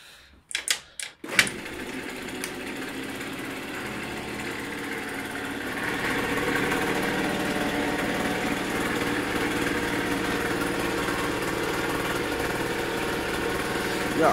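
A few sharp kicks, then an AGM Fighter 50 One scooter engine with a new cylinder catches and settles into a steady buzzing idle, close and continuous.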